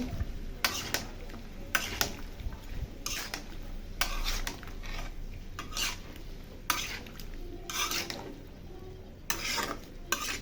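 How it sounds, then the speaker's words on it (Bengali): Radish and pangas fish being stirred in a pan, with repeated scraping strokes of a spatula against metal over a steady low sizzle, close and fairly loud, no talking. "এখন দিয়ে দিই মূলাটা নেড়ে দিই"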